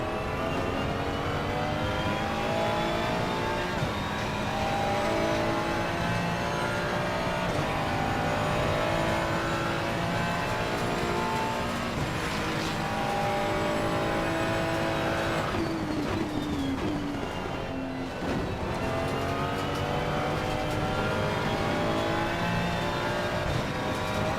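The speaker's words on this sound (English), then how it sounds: "engine is so linear in this Ferrari." A Ferrari six-cylinder race car in Assetto Corsa Competizione drones loudly and continuously, its engine pitch climbing and dropping through gear changes, with a brief tire squeal and a deceleration dip past the midpoint.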